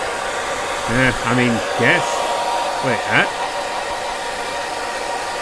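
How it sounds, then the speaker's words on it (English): A hairdryer runs in a bathroom, giving a loud, steady blowing roar throughout. Brief voices speak over it. "loud exhaust from the hairdryer running in"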